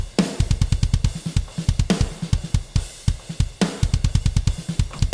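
A drum mix plays back dry before parallel processing: a fast, punchy pattern of repeated kick hits and cymbal crashes in a driving metal rhythm, loud and alone with no talk.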